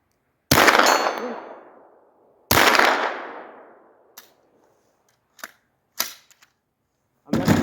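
Rifle fitted with a magnifier and reticle scope fires two loud, close shots that ring out and decay slowly, followed by a few shorter clicks and knocks and a third sharp report at the end.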